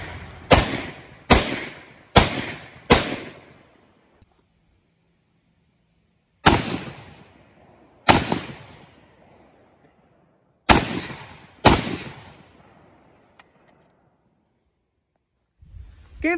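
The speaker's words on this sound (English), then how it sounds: "brought it out here to the range today and started putting rounds through it" A Bear Creek Arsenal AR-10 rifle fires at an outdoor range: four quick sharp shots in a row, then two more after a pause and another pair later, each loud, close and ringing out briefly before silence.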